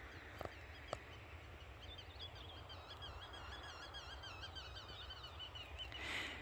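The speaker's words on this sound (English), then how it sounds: "And I just love hearing the sounds of the birds." Birds sing outdoors in a quiet natural setting, repeated high warbling phrases that carry faintly from a distance over a low background rumble, with a couple of soft clicks early on.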